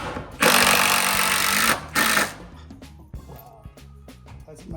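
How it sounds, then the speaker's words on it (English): A regular impact drill, not a Surge, whirs loudly in a long burst on a job site, stops, then gives a shorter burst, followed by quieter clatter and handling noises. "This is just an impact drill."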